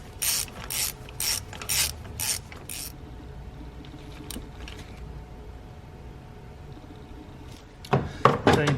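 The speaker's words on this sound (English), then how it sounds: "now you can use your ratchet and tighten it up" A hand ratchet tightens a spark plug on a 2013–2019 Nissan Sentra 1.8L engine, with rapid close clicking bursts at the start and again at the end and a quiet pause between.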